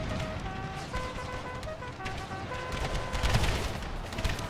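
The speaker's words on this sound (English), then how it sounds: "With the artillery shells landing" Artillery shells land during a Civil War battle video game, with a dense, continuous rumble of distant booms and crackling fire that swells toward the end, close and steady with no speech over it.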